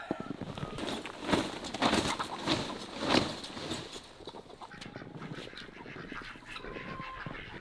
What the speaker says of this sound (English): Those are the oldest birds up there.